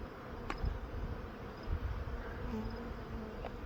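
A steady swarm of bees hums and buzzes close by, continuous and dense, with individual insects droning past now and then.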